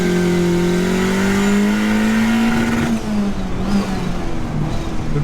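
A car engine held at the rev limiter during break-in gives a loud, close, sustained high-rpm drone that stays steady, then drops and wavers after about three seconds.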